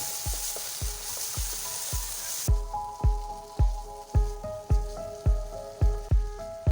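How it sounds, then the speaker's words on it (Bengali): Ginger-garlic paste frying with onions and spices for a soybean-chunk and potato curry, a steady broadband sizzle under repeated sharp spatula scrapes and knocks against the pan in an even rhythm, growing louder and more distinct partway through. "আদা রসুন দিয়ে আরও কিছু সময় ভালো করে কষাবো।"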